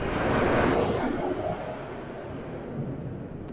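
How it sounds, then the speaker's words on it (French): An airplane passes overhead as a broad, steady roar, loudest in the first second and a half, then easing to a softer, sustained rumble that lingers to the end with no talking. "un avion qui passe, c'est très rare"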